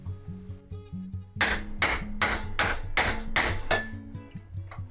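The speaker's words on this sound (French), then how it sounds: "on va prendre un marteau" Hammer blows on the metal body of a wrecked Wolf QP Eurotondor, seven sharp ringing strikes in a steady rhythm, loud and close, over a steady low mechanical hum.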